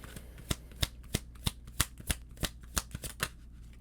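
Tarot cards are shuffled and drawn during a reading, a crisp run of about a dozen sharp riffling snaps at an even rhythm, close and fairly quiet, with no talking.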